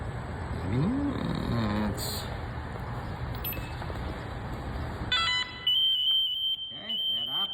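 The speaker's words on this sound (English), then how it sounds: "Okay, I've got a pass alarm." A firefighter's PASS alarm sounds a loud electronic tone, then shifts to sustained high beeping tones near the end, over a busy mechanical background.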